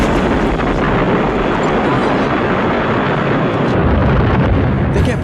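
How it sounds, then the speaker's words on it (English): A nuclear explosion rocks a dropship in an Aliens scene, heard as a loud, continuous, dense roar and rumble filling the whole stretch without letup. "the dropship gets rocked by a nuclear explosion"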